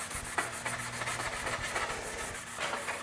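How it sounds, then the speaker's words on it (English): Abrasive scuffing strokes rub over motorcycle bodywork paint to knock back the gloss, a close, rhythmic series of soft rasping passes, repeated evenly with no talk. "And then scuff to remove any remaining gloss."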